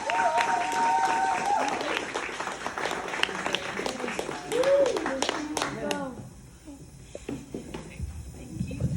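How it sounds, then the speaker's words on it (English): A crowd at a summer camp claps and cheers for a girl, a loud burst of applause with voices shouting and talking over it, fading to scattered claps and quieter chatter near the end. "How about another round of applause for Layla?"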